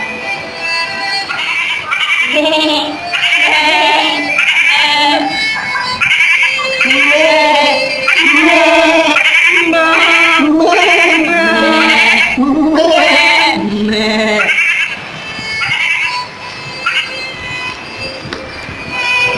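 Sheep bleat loudly and repeatedly, close by, with overlapping wavering calls that continue without a break through the whole stretch; no one talks over them.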